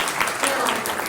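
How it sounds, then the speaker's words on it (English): Conference-room audience at a talk on A/B testing breaks into a short burst of steady clapping, dense and fairly loud, with no speech over it. "shall we do a round of applause?"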